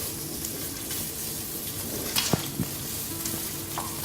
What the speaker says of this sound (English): and I'm going to add the bacon